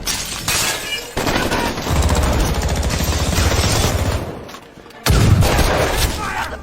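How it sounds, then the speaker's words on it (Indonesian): Bursts of rapid gunfire ring out in a film action scene, volleys crackling for several seconds, breaking off briefly, then resuming loudly with heavy impacts and echoes. "mereka harus terjebak di tempat ini dengan Yosef CS yang terus menggempur mereka dengan tembakan"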